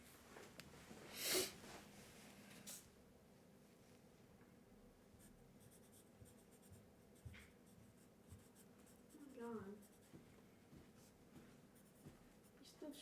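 A fountain pen with ink scratches across paper in a quiet room, faint steady scribbling strokes with a few louder rustles and breaths.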